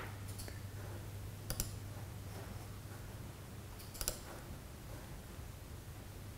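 A few sharp computer mouse clicks, two distinct double-click pairs, over steady background hiss and a low hum, with no talking.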